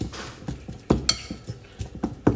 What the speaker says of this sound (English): What you're going to do is just mash the bananas with a fork.